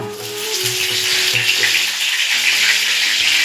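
Hot oil sizzles loudly in a pan with chilli, cumin seeds and bay leaf, the start of a Bengali chicken kosha; a continuous close crackling hiss with low tonal hum underneath, no talk.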